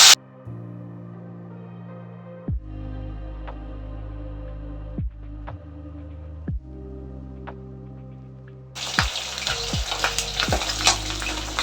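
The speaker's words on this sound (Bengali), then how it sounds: "প্রথমে আমি কড়াইতে ভালো করে তেল গরম করে কড়াইতে মাছগুলো আস্তে আস্তে" Pabda fish fry in hot oil in a wok, with a low hum and scattered sharp taps and clinks at first, then a loud, crackling sizzle bursting in near the end, close and without speech.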